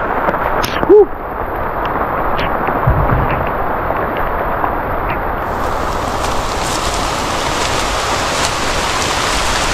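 Heavy rain falling during the rainy season on a goat farm, a dense steady hiss pouring down throughout, with a brief sharp sound near the start.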